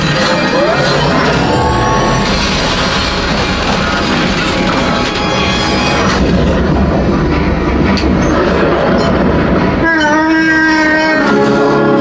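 A train at Disney's Star Wars Launch Bay rumbles past loudly with rattling, clattering noise throughout, joined by rising whistling tones near the end.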